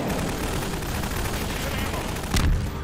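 Gunfire in the video game Half-Life 2, a dense continuous barrage of shots with a heavier burst near the end, loud and filling the whole clip.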